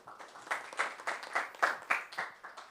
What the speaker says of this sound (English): Got the applause, great.